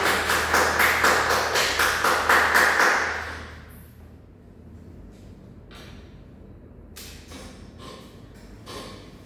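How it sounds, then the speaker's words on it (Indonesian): Classroom applause for a student's answer, a steady round of many hands clapping for about three seconds before fading out, followed by quiet room noise and a few light knocks. "kita beri aplaus untuk jawaban Rani"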